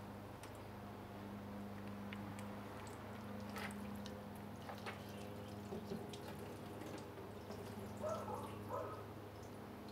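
Water trickling and dripping off the treated paint of a 2018 Chevrolet Camaro ZL1 after a Shine Armor coating, a steady faint patter with a low hum beneath and a few brighter drips late on.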